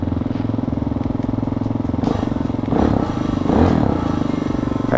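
A 2020 Hawk 250 Enduro motorcycle engine starts and settles into a steady, close idle with a loose rattling vibration, then revs up briefly twice.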